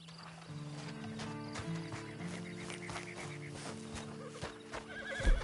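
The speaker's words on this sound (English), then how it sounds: "And you better get on this horse." A horse in the video game Red Dead Online whinnies among soft clip-clop hoofbeats, quiet and steady over a low humming tonal background.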